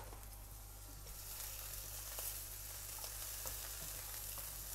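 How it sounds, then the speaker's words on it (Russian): Zucchini frying gently in a pan sizzles with a steady, even hiss and faint crackles throughout, close by with no talking. "Кабачочки потихонечку обжариваем, тоже несколько минут буквально"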